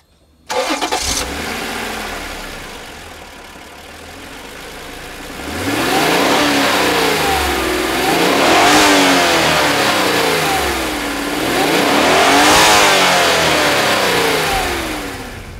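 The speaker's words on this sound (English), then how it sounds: "I'm taking the NSX for probably not the first drive" A Honda NSX supercar engine cranks and fires up with a sharp start, then settles before rising into repeated loud revs that swell and fall in waves, close and dominant with no talking.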